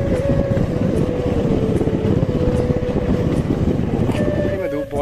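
Motorcycle engine droning steadily and close during an off-road ride on rural roads in the evening, with a constant rumble and slight pitch shifts as it moves, wind noise over it and a voice talking briefly.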